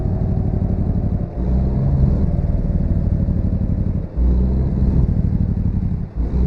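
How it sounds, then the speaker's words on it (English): A loud, deep engine brake on a 2014 Volvo VNL truck in American Truck Simulator rumbles and stutters steadily, with brief dips as it shifts and resumes. "enable that engine brake"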